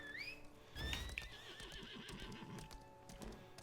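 Horses in the video game Lost Ark whinny with rising squeals near the start, then snort and clip-clop amid game effects, close and moderately loud.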